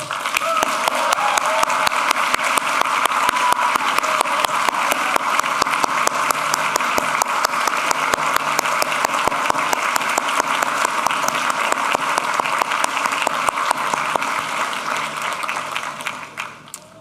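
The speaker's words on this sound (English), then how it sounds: "Graduates, please join me in a round of applause for all who have helped you along your journey." Sustained applause from graduates and guests fills a tent at a Harvard engineering school hooding ceremony, dense steady clapping for over fifteen seconds before tapering off at the end.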